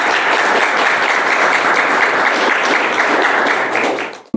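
Loud, dense audience applause fills a ceremony hall where the President honours chess player Javohir Sindorov, steady and sustained throughout before cutting off abruptly at the end.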